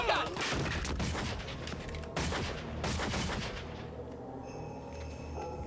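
Gunfire in a shootout crackles in rapid overlapping bursts, loud and sharp at first, with volleys repeating before thinning out toward the end.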